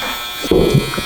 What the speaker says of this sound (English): just tidying up with the trimmer